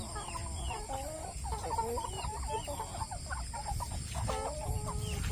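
Rhode Island Red chickens and a rooster in a backyard flock, clucking and calling repeatedly in overlapping bursts at close to moderate distance, over a low steady background hum.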